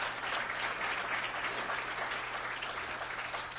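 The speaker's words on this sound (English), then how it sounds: "they deserve a round of applause." Audience at a clean water conference applauding the sponsors, a steady even wash of many hands clapping at moderate level from somewhat far, with a low hum underneath and no talk.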